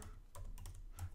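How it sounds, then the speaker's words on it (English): Quiet computer keyboard typing, a handful of soft clicking keystrokes in quick succession, close but faint. "I'm going to type"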